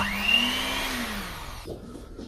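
Electric hand food mixer motor running with a steady high whine that slowly drops in pitch, then cuts off near the end.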